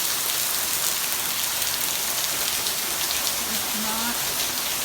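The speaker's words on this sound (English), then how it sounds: "It's really rainy at this point." Heavy rain from Hurricane Irma pours steadily onto surfaces, a dense, even hiss close by with no break across the whole stretch.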